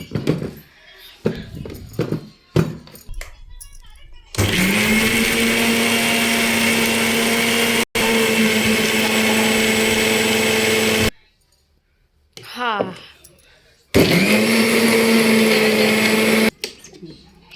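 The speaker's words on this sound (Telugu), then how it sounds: "మిక్సీ పడుతుంది మమ్మీ." A mixer grinder whirs loudly in two long steady bursts with a short pause between, with brief talk and clatter before and between runs.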